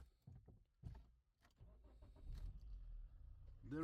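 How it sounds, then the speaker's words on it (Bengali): Toyota Yaris engine starting: a few faint clicks and starter whirs, then the engine catches and settles into a low, quiet idle, with a sharper rising sound at the very end. "প্রথমত আসুন ইঞ্জিনটি শুরু করি এবং ইঞ্জিনটি গরম করি"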